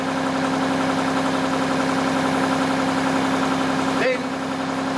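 An SAR100 machine tower rotates at a set speed, giving a steady, even mechanical hum with a constant tone that shifts briefly near the end.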